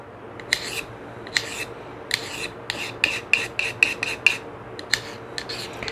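Pruning shears are sharpened with a rasping file, about a dozen short rhythmic strokes close up, each a bright scraping burst over a low steady hum.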